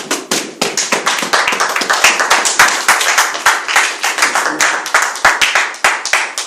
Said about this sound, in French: On va acclamer pour cette parole.